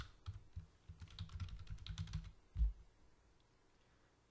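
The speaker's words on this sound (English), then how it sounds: "So type in your Gmail account." Quick bursts of keystrokes on a computer keyboard while entering a Gmail account during software setup, close and fairly quiet, followed by a single louder key press, with no talking.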